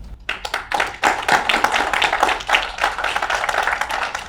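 Workshop participants applaud together in a room, a close, lively burst of hand clapping with uneven rhythm that continues for several seconds without talk.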